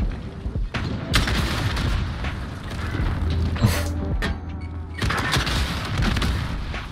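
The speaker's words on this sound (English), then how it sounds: "Rocket launcher!" Deep booming blasts and rumbling gunfire in a Call of Duty Search and Destroy match, with a rocket launcher explosion and fire shotgun shots among them, loud and continuous with a few sharp peaks.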